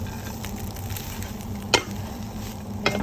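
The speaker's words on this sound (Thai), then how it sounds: "กุ้งแห้งนะคะเดี๋ยวจะมาคั่ว" Dried shrimp dry-roasting in an empty wok for chilli paste, a steady dry sizzle and patter with two sharp scrapes of a utensil against the pan, close and alone.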